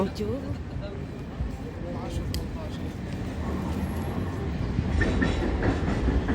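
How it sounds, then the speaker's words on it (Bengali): An old tram runs through the city streets of Sofia, Bulgaria, making a steady rolling rumble with light rail clatter. It sounds moderately distant and continuous, and a voice talks over it. "তো বুলগেরিয়ার শহরে ওইদিকে একটা দেখা যাচ্ছে পুরাতন আমলের ট্রাম।"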